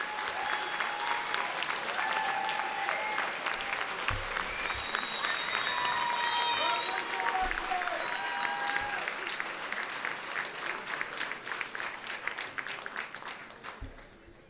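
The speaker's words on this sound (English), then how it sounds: "please give a round of applause for the future Dr." Sustained applause from a large audience for a graduate at a commencement ceremony, heard from a distance. It starts strong, holds, then slowly tapers off with scattered claps and faint voices underneath.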